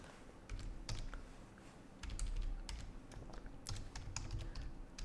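Rapid, uneven clicks of a computer keyboard as C# code is typed, close and clear, with a steady low hum underneath and no talking.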